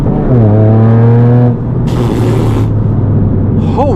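A Toyota GR Yaris GRMN fitted with an Akrapovic exhaust, its engine note rising in a steady rev with strong low harmonics, then settling into a loud continuous drone with a burst of broadband roar midway, heard close and without talk.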